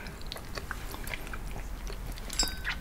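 Quiet, close crunching and soft chewing of a crispy yet chewy macaron, a run of small bites and mouth sounds in a hushed, intimate setting.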